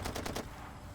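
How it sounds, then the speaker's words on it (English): Automatic gunfire in the video game Far Cry 2: a rapid burst of about four loud, close shots in the first half second, then fading into quiet ambience. "I hear gunfire."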